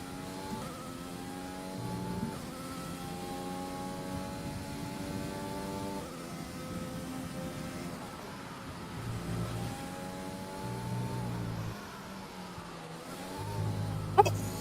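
Race car engines in a racing video game rise in pitch through repeated gear changes, steady and moderately loud, with a faint voice briefly.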